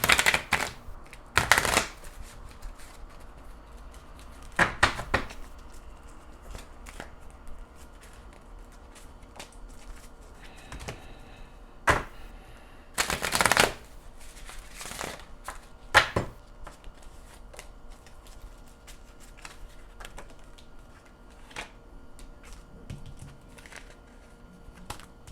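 Tarot cards being shuffled alone in a quiet room, sharp brief riffling bursts coming in irregular clusters between long near-silent gaps.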